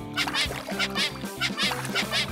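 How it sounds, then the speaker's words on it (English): Ducks quack in a rapid, repeated run of nasal calls, close and loud, with several birds overlapping in a steady rhythm. "Oh, ducks look like ducks."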